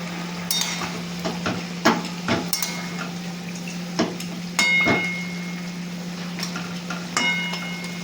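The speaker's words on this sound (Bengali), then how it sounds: "ডাঁটা চচ্চড়ির জলটা আমার খুব ভালো করে ফুটে গেছে। এবার আমি ভেজে রাখা বড়িগুলো দিয়ে দেব।" Fried lentil dumplings go into boiling drumstick curry in a home kitchen, bringing a few close knocks and clinks of utensil on pan over a steady low simmering hum, with no speech.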